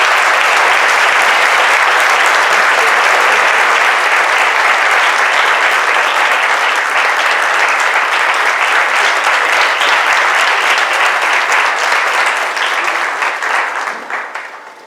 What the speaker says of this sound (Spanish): le recibimos con un aplauso